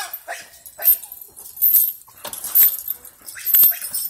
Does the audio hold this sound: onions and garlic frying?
no